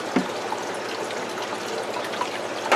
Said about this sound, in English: I am just going to run this straight into a bucket